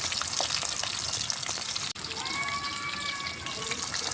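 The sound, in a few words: milkfish (bangus) frying in a pan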